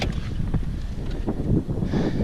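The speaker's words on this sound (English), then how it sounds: "It's going to be a little bit windy, but" Gusty wind rumbles and buffets loudly outdoors on Bonaire, with no voices, just a constant low roar.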